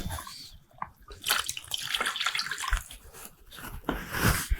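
A jar of water poured out into a container while mixing a rust removal solution, splashing and gurgling in irregular bursts with trickles and drips between them, close and fairly loud.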